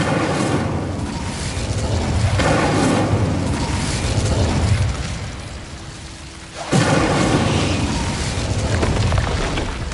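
Incendio fire spell cast in Hogwarts Legacy, a loud roaring, rumbling burst of flame that surges, fades, then flares up again amid thunderous game effects.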